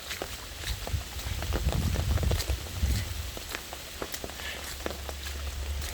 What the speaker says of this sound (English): It was just a good little torrential downpour just then.